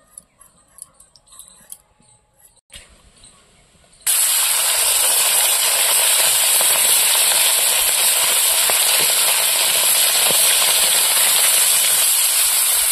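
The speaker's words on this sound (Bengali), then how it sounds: "এবার মাছগুলো ভেজে নেব।" Small charapona fish hit hot oil in a pan and erupt into a loud, steady frying hiss that runs on continuously after a few quieter kitchen clinks.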